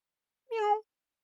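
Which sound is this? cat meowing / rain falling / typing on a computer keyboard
cat meowing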